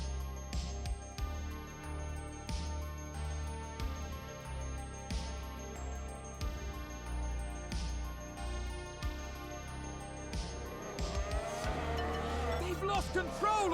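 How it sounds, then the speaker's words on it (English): Simulated Formula 1 car from F1 Manager 22 spinning out, a steady high engine drone with a rising burst of tire squeal and skid near the end, continuous and fairly loud. "Look at that! They've spun their car."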